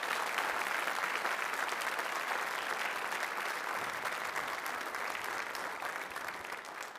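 An audience at a Burns Night event gives sustained applause, a steady wash of clapping that eases slightly toward the end, with no talk over it.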